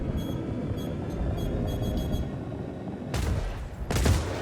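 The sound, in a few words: missiles hitting and destroying a spaceship, Star Citizen video game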